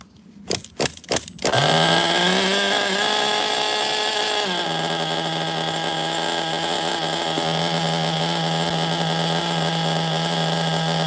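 An OFNA LD3 nitro RC car engine fires up after a few sharp pull-start bursts and settles into a loud, steady, buzzing run close by, its pitch dropping slightly partway through and holding there.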